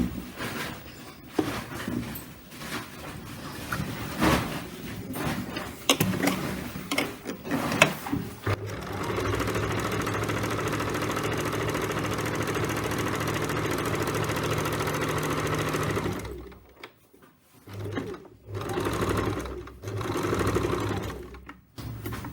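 A sewing machine stitches in one steady, continuous run of mechanical whirring lasting several seconds, preceded by irregular handling clatter and followed by a few short stops and restarts.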